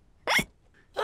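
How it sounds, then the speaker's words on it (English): A cartoon pig hiccups after gulping juice too fast: two short, sharp, close hiccups separated by a brief pause. "George drank his juice too quickly, and now he has hiccups."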